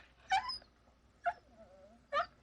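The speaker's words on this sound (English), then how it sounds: "Lindsay, Lester's barking again and getting on my nerves again." A dog in the film Halloween gives three short, sharp barks or yips, spaced about a second apart, faint and close with quiet between them.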